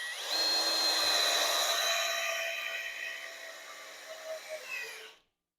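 A Hoto 12V brushless drill drives a screw into wood without a pre-drilled hole, giving a loud, close, rising whine that slowly winds down and cuts off sharply.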